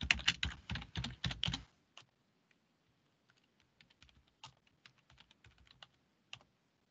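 Typing on a computer keyboard while entering programming code, a rapid burst of loud, close key clicks followed by sparser, softer taps and pauses.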